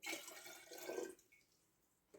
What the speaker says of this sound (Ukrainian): От я наливаю певну кількість, не більше, не менше.